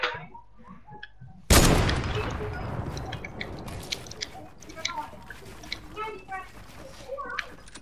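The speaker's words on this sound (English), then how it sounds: "once I shoot my heavy sniper" One loud, sharp heavy sniper rifle shot cracks out in a video game, followed by ringing decay and scattered clicks and thuds, with children's voices chattering faintly around it.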